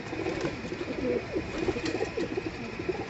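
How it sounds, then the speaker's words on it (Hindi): Soft, repeated cooing of a Malbai pigeon at a pigeon-keeping setup, a series of low throaty calls in a rolling rhythm over faint background noise, with no one talking. "मलबई कबूतर है"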